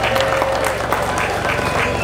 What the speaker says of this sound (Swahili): tuwape maua yao kwa makofi na vigelegele vingi sana